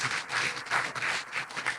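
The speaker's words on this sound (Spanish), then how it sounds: "denle un aplauso a Dios del cielo en esta hora." Brief burst of congregational clapping during a Spanish-language church sermon, a few uneven swells of hands over under two seconds, moderately distant and fairly soft.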